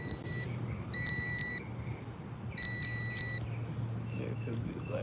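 Several faint electronic beeps of uneven length from a multimeter continuity test on a Toyota hybrid battery sound over a low, steady hum and background noise, one short, others held longer.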